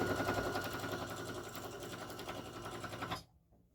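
A sewing machine stitches a duffel bag in a continuous rapid run for about three seconds, close and fairly loud, then stops abruptly into near silence.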